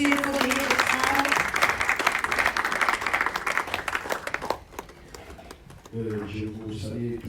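Church congregation applauding during a bilingual French and Dutch worship service, steady dense clapping that fades out, followed by singing or voices near the end.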